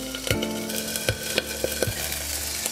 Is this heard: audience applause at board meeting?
no